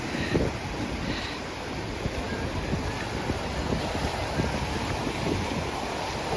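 Sea surf along the Dzhemete coast on the Black Sea, a continuous rushing wash of waves mixed with wind buffeting the microphone, with no voices.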